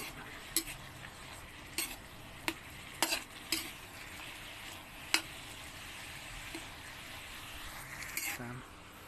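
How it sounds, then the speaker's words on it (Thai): Pork stir-fried in a pan for Thai rattan curry, a quiet steady sizzle broken by sharp spatula clanks against the pan at irregular intervals, close by, with faint hints of a voice. "ใส่หมูแล้วครับพี่น้อง ขัวหมูซุกกันเลยครับ"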